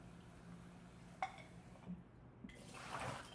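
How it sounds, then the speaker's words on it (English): Warm tap water runs over an ice egg, a quiet steady stream with a few small clinks and drips as the container fills. "Now I'm going to try to get my ice to melt a little bit faster by running it under warm water."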